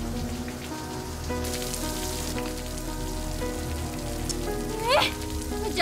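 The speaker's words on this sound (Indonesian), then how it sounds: "Tadi hujan tiba-tiba datang, Bu." Rain patters steadily on a surface in a dense, even hiss that fills the whole stretch, with faint background sounds and a brief chirp near the end.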